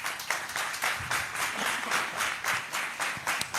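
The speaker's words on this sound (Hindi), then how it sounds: "ताली बजाकर प्रभु को धन्यवाद दीजिए" Congregation clapping in thanks during a morning revival worship session at a church gathering in Balpur, Gujarat, a dense, steady round of applause swelling in even pulses, fairly close and filling the room without voices over it.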